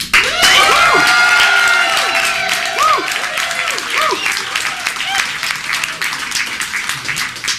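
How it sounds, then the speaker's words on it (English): A live audience claps, cheers and whoops for a candidate at a mock presidential event, loud and dense at first, with shouted voices rising over the applause before it gradually thins out. "please clap, cheer, or woo for one of these candidates"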